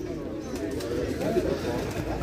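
Pigeons coo at a busy bird market, soft repeated low coos rising over a dense crowd murmur, with voices talking nearby throughout.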